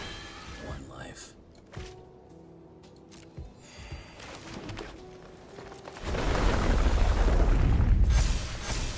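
A summon explosion in a Final Fantasy video game erupts as a loud, sustained roaring blast over the last few seconds, following quieter game effects and scattered thumps while someone talks.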